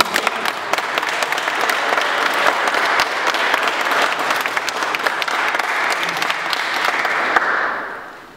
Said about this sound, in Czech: ještě jeden potlesk